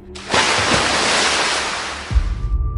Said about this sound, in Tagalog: Hanggang sa narinig na nila ang paglagapak nito sa tubig.